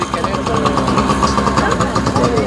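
Small motorcycle and scooter engines, including Vespas, idle nearby at a flea market with a steady, buzzy putter and rhythmic pulsing, filling the space loudly without pause.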